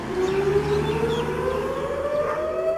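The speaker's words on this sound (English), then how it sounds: "A siren sounds each Memorial Day" A civil defense siren in Israel wails steadily on Memorial Day, its tone slowly rising, loud and sustained with a faint background hum underneath.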